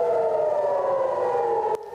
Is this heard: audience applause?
no